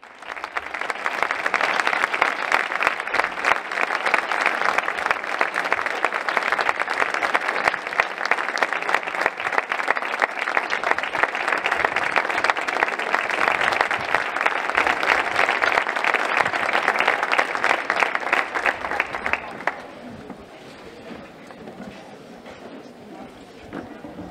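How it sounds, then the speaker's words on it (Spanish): A music festival audience applauds to welcome a band director: a long, loud burst of dense, crowded clapping that holds for about twenty seconds, then drops away abruptly, leaving quiet room sound. "a su director, don Francisco Javier García, con un alentador aplauso de bienvenida"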